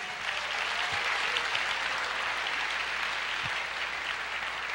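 A church congregation applauds in a dense, continuous wash of clapping that holds steady and moderately loud throughout, with no clear voices on top.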